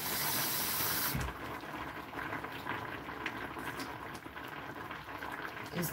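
Water pours into a pot with pineapple and ginger for pineapple tea. A strong rushing gush lasts about a second, then gives way to a softer, steady bubbling and trickling for the rest of the clip.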